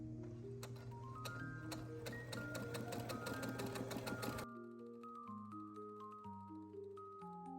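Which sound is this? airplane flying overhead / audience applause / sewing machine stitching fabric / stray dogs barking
sewing machine stitching fabric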